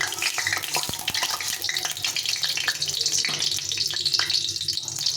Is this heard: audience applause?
no